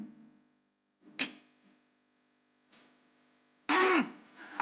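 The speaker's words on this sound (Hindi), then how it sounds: "कहीं गला साफ करते करते आवाज ही साफ ना हो जाए" A few rough, forceful throat-clearing bursts separated by pauses, close and loud, the last one the strongest, with a low hum underneath.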